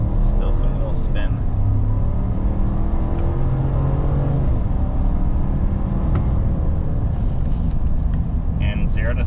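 2023 Chevy Silverado with the 5.3 engine accelerating from idle toward 60 mph: a loud, continuous engine roar with rising revs, heard up close for the whole stretch.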